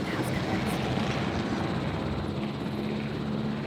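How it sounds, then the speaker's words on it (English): A helicopter in the Jurassic World Evolution video game drones steadily with a dense rotor wash throughout, loud and continuous, while a voice talks over it. "He does not like the helicopter."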